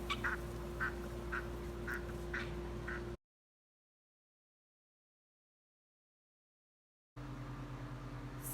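Ducks let out to free range for the first time alongside laying hens and guinea fowl quack in a quick series of short calls over a steady mechanical hum, then fall silent before the hum returns.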